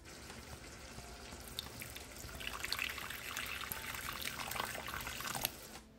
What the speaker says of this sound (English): So now I'm gonna add some hot water.